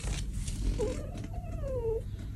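A cat in heat lets out a drawn-out, wavering yowl that rises and bends in pitch, loud and close indoors over a faint background rumble.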